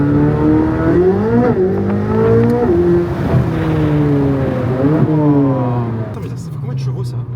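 Several cars driving together in a convoy, including a Lamborghini Huracán STO and a BMW M3 CS, engines rising and falling through repeated revs and gear shifts, loud and close, with a voice talking over them.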